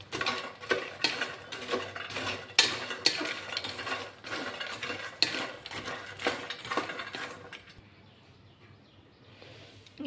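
Dry lotus seeds (makhana) being roasted in a pan over a low flame, giving rapid rhythmic scraping and rattling strokes that go on for several seconds, then stop and leave a quiet lull.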